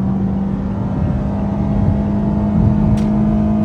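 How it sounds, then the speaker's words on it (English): A 2-liter four-cylinder car fitted with a K&N intake and Borla exhaust drones under sustained throttle, a steady loud engine tone with induction noise throughout, heard outdoors at a car show. "for a 2-liter four-cylinder car, I think this sounds pretty good"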